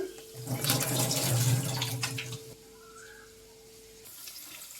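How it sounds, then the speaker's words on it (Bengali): Boiled jackfruit and potatoes poured from a pot into a strainer basket, water splashing and gushing for a couple of seconds, then thinning to a quieter trickle and drain. "এবার ঢেলে নিচ্ছি এটা ঝুড়িতে"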